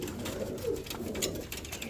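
Caged pigeons at a pigeon sale centre, giving soft low coos that come and go over a faint background hum.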